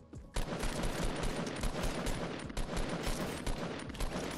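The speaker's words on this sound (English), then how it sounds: "A lot of bullets being fired." Rapid automatic gunfire in Fortnite, a dense, sustained burst of shots firing almost continuously, loud and close, with no talk.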